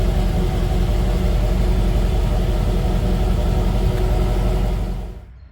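A 1989 Pontiac Trans Am GTA engine running as the car is driven around the block, a steady low rumble and hum that holds evenly, then cuts off abruptly near the end.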